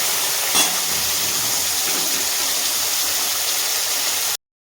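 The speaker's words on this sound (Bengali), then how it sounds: "তিনটে তিনটে করে মাছ ভেজে নিচ্ছি" Pomfret fish frying in hot oil, a few pieces at a time, giving a steady, loud, broadband sizzle and hiss that holds evenly throughout before cutting off abruptly at the end.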